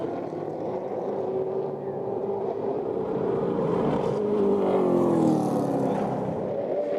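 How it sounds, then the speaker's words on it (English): A CARS Tour race car laps Caraway Speedway in qualifying, its engine note rising and sweeping in pitch as it passes, loud and continuous, swelling toward the middle before easing off. "He's going to be the second car out on the racetrack."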